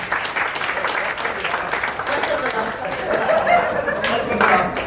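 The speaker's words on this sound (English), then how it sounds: "Let's have a big round of applause for the finalists." A convention audience applauds quiz finalists in a burst of clapping mixed with chatter and a few chuckles, the noise swelling slightly toward the end.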